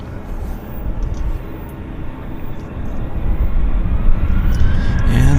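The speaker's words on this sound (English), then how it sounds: "This aircraft is the WestJet 1722 to Palm Springs." A WestJet airliner, flight 1722 bound for Palm Springs, takes off at Vancouver airport. Its jet engines make a steady, broad rumbling roar that builds gradually in loudness throughout, with no talk over it.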